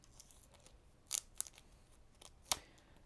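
A pack of NFL trading cards is torn open, giving three short, sharp crinkling rips against a quiet background.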